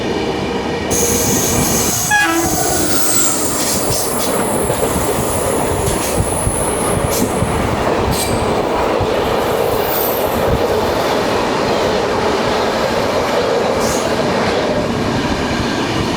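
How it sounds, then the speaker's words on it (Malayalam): A Thiruvananthapuram–Guruvayur Intercity Express passes near a station in Kerala, a loud, continuous roar of wheels and carriages with a brief squeal, lasting the whole stretch without letup. "ആ പോയ ട്രെയിനായിരുന്നു തിരുവനന്തപുരം ഗുരുവായൂർ ഇൻ്റർസിറ്റി എക്സ്പ്രസ്."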